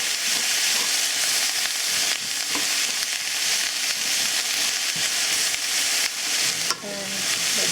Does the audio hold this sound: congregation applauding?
no